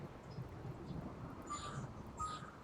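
Rain and thunder in the RimWorld video game, a steady broadband wash of rainfall with low rumbling underneath, plus faint high tones near the end, at low level with no voices.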